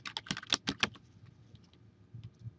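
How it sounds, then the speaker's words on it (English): Brisk typing on a computer keyboard as a comment is entered: a quick run of close, crisp key clicks for about a second, then fainter, scattered taps. "I can either click on type, and I can type in my comment"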